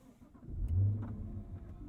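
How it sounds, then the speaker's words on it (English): A supercharged V8 in a Cadillac CT5-V Blackwing fires up with a brief cranking catch and a swelling low rumble that settles into idle, heard from inside the car, fairly quiet and alone. "Oh, this is a welcome noise. Not the dings from the car. I'm talking about the supercharged V8"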